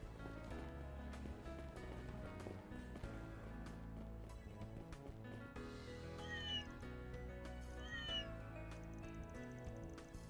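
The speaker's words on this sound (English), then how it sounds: "And there's the top cat of the marche." Tiger, the marche cat in Trails Beyond the Horizon, gives a couple of brief meows high over steady, busy background music with a plodding rhythmic beat.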